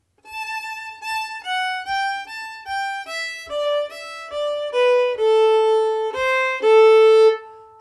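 A solo fiddle plays a phrase of an Irish tune in a Christmas Eve lesson: a run of about a dozen clean, separate bowed notes, close and clear, climbing and falling before ending on a longer held note, with no talking.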